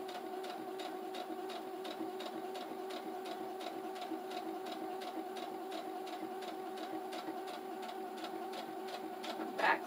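A sewing machine runs along the seam of a fabric pouch, with an even, rapid train of stitch beats over a low motor hum, steady and close, with a short sharp knock at the end.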